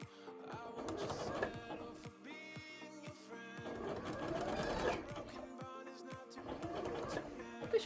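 Domestic sewing machine stitching through thick fur for a Pumpkaboo cosplay costume, a steady close whirring hum broken by brief stops and restarts, with no talk.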